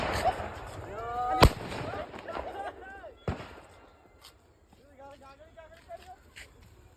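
Big firecrackers burst during a Diwali celebration near a field, two loud sharp bangs about two seconds apart, with people talking and shouting around them.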